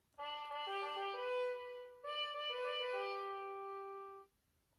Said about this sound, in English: here's how a trumpet sounds on its own